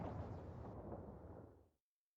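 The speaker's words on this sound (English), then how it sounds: "Explosion!" A loud video-game explosion from Ghost Trick bursts in at once and roars steadily for well over a second before cutting to silence, with no voices over it.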